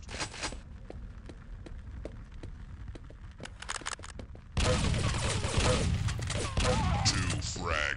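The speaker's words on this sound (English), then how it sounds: "Shotgun shoots as slow as Christmas" Shotgun blasts in the video game Quake III Arena: a run of sharp, clicky shots gives way halfway through to a loud, dense burst of explosive firing and crackling impacts.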